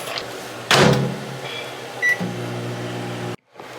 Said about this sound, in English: In the microwave.